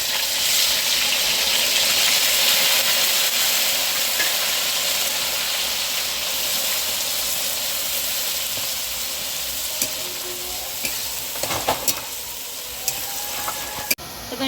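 Garlic paste and chilli-cumin paste sizzle steadily in hot oil with onion for a fish curry, a continuous loud frying hiss with a few faint clicks of stirring near the end.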